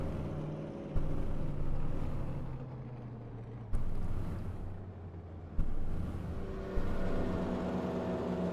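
A damaged modified race car's engine keeps running in the iRacing sim at North Wilkesboro, a steady droning engine note with a few abrupt jumps in level and a rushing, wind-like wash over it.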